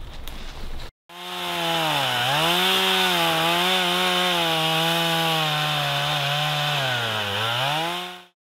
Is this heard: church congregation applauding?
no